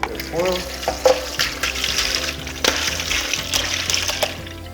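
Scallops splash and plop into a water brine, mixed with close watery sloshing and a few sharper knocks, fairly loud with no clear speech.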